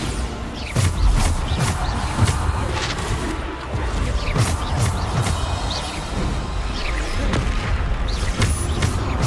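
Explosion spells in the video game Hogwarts Legacy go off as repeated loud booming blasts amid dense, continuous combat noise.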